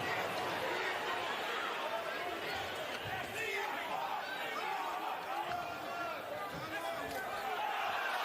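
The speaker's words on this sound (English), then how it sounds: "now the crowd chanting support for Usyk as Dubois is backing up" A boxing arena crowd at Oleksandr Usyk vs Daniel Dubois roars and chants continuously in support of Usyk, a dense, distant wash of voices with no clear breaks.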